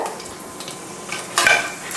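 Whole fennel, cloves, star anise, cinnamon and a bay leaf frying in hot oil in a pan, a steady soft crackle and sizzle with a brief louder burst of spattering partway through, no voices.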